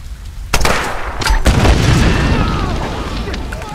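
A grenade launcher explosion in the Tomb Raider video game, a loud close blast followed by a second boom and a long rumbling, crackling roar that slowly dies away, with a voice mixed in.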